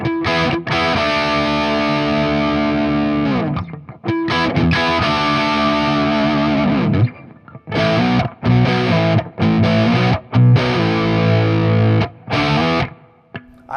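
Electric guitar through an EVH 5150 50W EL34 amp on the blue channel, with no delay, plays crunchy distorted chords and riffs in loud bursts separated by sharp stops and short gaps.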